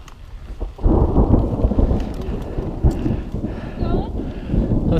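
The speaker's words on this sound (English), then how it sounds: "Lightning's getting closer again. It's starting to rain." Heavy rain patters steadily on a mountain trail near Durango while low thunder rumbles through, with a few sharper cracks and a faint birdlike squeak late on.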